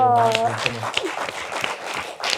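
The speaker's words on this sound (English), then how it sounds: "Give a round of applause first." An audience at a music and healing event gives a round of applause, a dense patter of claps rising right after a brief spoken phrase and continuing steadily to the end.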